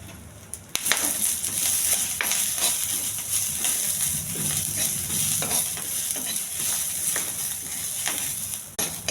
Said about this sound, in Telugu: ఇవన్నీ వేగించాలండి.